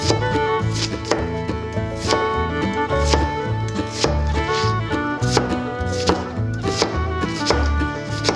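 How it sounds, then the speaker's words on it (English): A knife chops onions and garlic on a cutting board in quick, even strokes, the hits sounding under loud music that plays throughout. "let's go chop some onions and garlic"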